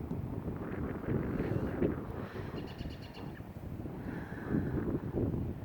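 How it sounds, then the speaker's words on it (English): Wind gusting and rushing across a microphone outdoors on a chilly night with snow still on the ground, a steady broadband roar that swells and eases throughout, with no voices. "Wind's starting to pick up."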